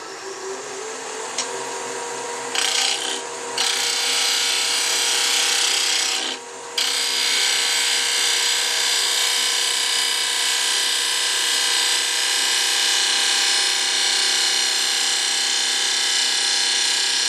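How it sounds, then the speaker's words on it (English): Steady, continuous hiss and scrape of a 3/8 inch deep fluted bowl gouge cutting spinning wood on a lathe while turning bracelets, with brief dips where the tool lifts off. "I'm using a 3/8 inch deep fluted bowl gouge."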